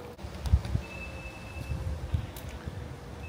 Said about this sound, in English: I hate windy videos where all you hear is the wind.